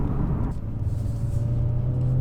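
A car engine in dynamic drive mode rumbles steadily at low pitch, with a low steady hum building gradually through the short stretch. The engine note stays continuous and close, with no voices over it.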